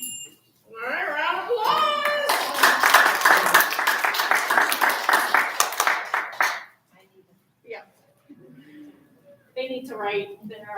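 A spelling bee crowd claps for several seconds, a dense burst of applause from many hands, then a voice talks briefly once the clapping fades.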